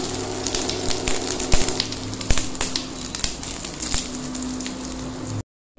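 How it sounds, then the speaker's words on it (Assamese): Finely chopped ginger sizzling in hot mustard oil with popping mustard seeds, a steady loud crackling fry with scattered sharp pops, ending abruptly in silence. "এতিয়া ইয়াত দিম মই মিহিকৈ কাটি লোৱা আদা"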